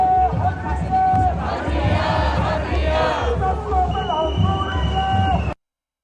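A crowd of masked protesters chanting a non-English phrase in unison, loud and sustained with rhythmic rising shouts over a continuous mass of voices that cuts off abruptly.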